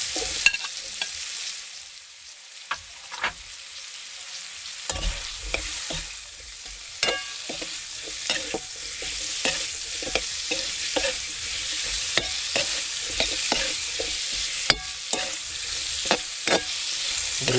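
Winter melon (kundol) sautés in a pan with a steady sizzle, while a utensil stirs and scrapes in frequent clicking strokes, close and continuous.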